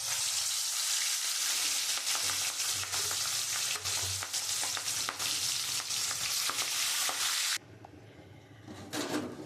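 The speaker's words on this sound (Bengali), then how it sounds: "আমি এখন মাথাগুলো ভেজে নেব।" Boal fish heads sizzle and crackle in hot oil in a wok, a loud continuous fry with stirring scrapes, dropping abruptly near the end to a quieter, softer sizzle.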